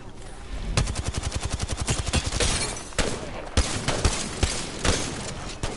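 Rapid automatic gunfire in the battle royale game Apex Legends, a loud, close burst of evenly spaced shots followed by scattered single cracks and further bursts, with no talk.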